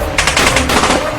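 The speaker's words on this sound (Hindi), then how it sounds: "और इन लोगों की बंदूक के साउंड तो सुनो।" Rapid burst of gunfire in a film scene, a loud close series of quick cracking shots in a fast machine-gun rhythm with no break for about a second.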